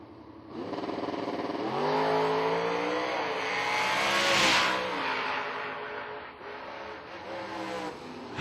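The wheelstanding pickup truck Optimus Dime drag races at The Million 2016 on a 5.98 dial, its engine roaring up through rising gears in a loud, sustained run that swells and then fades as it pulls away.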